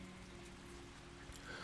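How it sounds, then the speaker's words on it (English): Steady rain from the video game Trails to Azure, a soft continuous patter of drops on surfaces at low level, with faint background music tones and no talking. "it makes this downpour feel a little less dreary"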